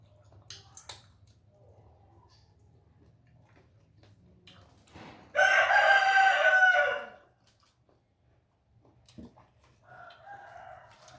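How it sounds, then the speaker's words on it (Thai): A rooster crows once, loud and close, in a long sustained call. A fainter, shorter call follows near the end over a quiet outdoor background with occasional small ticks. "เขาเลี้ยงไก่อยู่กัน"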